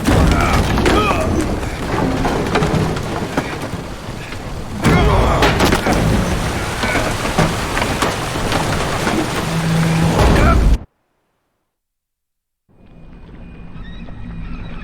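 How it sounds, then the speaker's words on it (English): A stormy sea in the Witcher 3 video game roars with heavy, continuous rain and wind, and deep thunder rumbles through it for about eleven seconds before a silent gap and a quieter return. "Didn't bargain for no storm."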